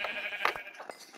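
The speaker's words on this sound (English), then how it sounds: "Nice, 2 more sheep." Sheep in the Minecraft video game give a short, faint, nasal bleat that rises and fades within about a second.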